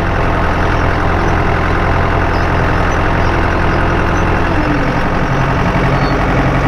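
A tractor pulls a hoe through rows of sunflowers, its engine a loud, continuous low rumble that runs steadily from start to finish without a break.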